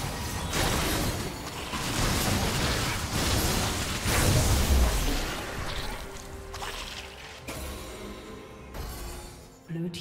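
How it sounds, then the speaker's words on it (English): A turret crumbling in League of Legends during a top-lane match, dense layered bursts and rumbling debris swelling loudly around the middle before trailing off into scattered game effects. "Red team's turret has been destroyed."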